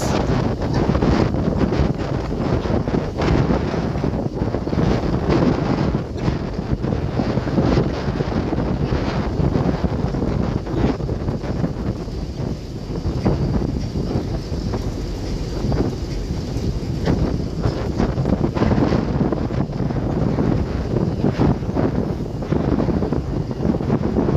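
Passenger launches leave Dhaka for Barishal on the river near Munshiganj, their engines churning under a steady roar of wind buffeting the microphone, dense and unbroken throughout.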